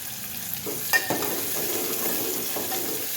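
Chopped onions hiss and sizzle in hot oil tempering for drumstick pithla, with brief stirring clatter from a utensil in the pan.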